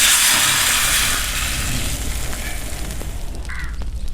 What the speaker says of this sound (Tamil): கரைச்சி வச்சிருக்கிற தக்காளி பழம், புளியெல்லாம் போட்டு அதை இதுக்குள்ளே ஊற்றிடுவோம்